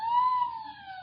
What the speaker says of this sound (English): There's a police car not far off.